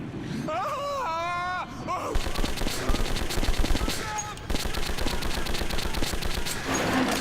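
Rapid bursts of automatic gunfire from the video game Metro 2033 rattle loudly and almost continuously after a brief shout at the start, with a short lull midway.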